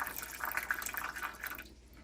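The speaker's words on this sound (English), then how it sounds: "I'm just running the water in there right now" Water runs into an Ecoviva MATE4 countertop UV reverse osmosis filter in a travel trailer, a soft, close trickle and splash that stops toward the end.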